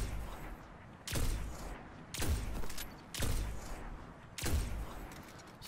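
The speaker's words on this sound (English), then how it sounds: "so I definitely put some sniper shots into him" Five heavy sniper rifle shots from the video game Destiny boom at a steady pace about a second apart, each a sharp broadband crack with a short tail, loud and close with no talking.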